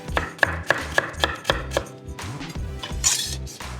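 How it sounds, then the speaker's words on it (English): Half an onion and some garlic finely sliced with a knife on a cutting board: a steady run of crisp, close chopping taps, loud and evenly paced, then a quicker scrape and clatter near the end. "Just going to take half an onion. Finely sliced. Same with our garlic."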